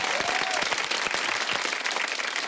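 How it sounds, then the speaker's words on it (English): A television studio audience applauds guests Yvie and Ahmed, with loud, close, continuous clapping filling the whole stretch and no speech standing out. "please keep the applause going for Yvie and Ahmed"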